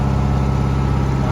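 A Detroit 8V71 two-stroke diesel in a truck with a 13-speed gearbox, its engine brake engaged, gives a loud, steady, low droning rumble with a fast even pulse, close and unbroken, with no talking.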